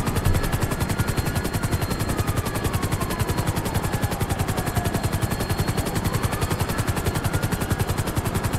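Rapid machine-gun fire rattles continuously from a helicopter in a video game casino heist, a steady dense burst with rotor-like drone beneath and a faint whistling tone gliding through it, loud and close with no talk.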